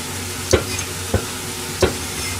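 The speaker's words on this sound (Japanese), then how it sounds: "キュウリをちょっと刻んで、サラダの材料を作りましょう。" Three crisp steel knife strokes slice through a cucumber on a board, spaced unevenly, close and clear over a soft sizzling hiss.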